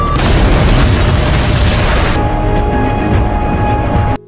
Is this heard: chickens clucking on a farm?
no